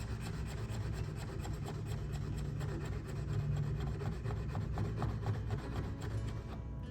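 A knife blade is drawn repeatedly across a whetstone while being hand sharpened, a quiet, steady rasping scrape with rhythmic strokes close to the microphone.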